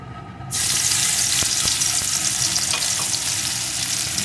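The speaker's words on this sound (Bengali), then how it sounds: "তেলটা গরম হয়ে গেছে। এখন দিয়ে দেব একটা শুকনো লঙ্কা, দিয়ে দেব কিছুটা থেতো করা রসুন।" Dried red chilli and crushed garlic drop into hot mustard oil, which bursts into a loud, steady sizzle after a quiet first half-second. The frying crackles continuously and close, with a few sharper pops.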